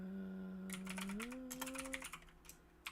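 Keys clatter on a clicky computer keyboard in quick close bursts, following a sustained tonal hum that fades out as the typing starts.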